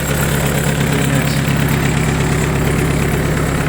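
A Mitsubishi MT1801D four-cylinder 18 hp mini tractor engine idles steadily at close range, a low, even rumble with a faint mechanical knock and no voices.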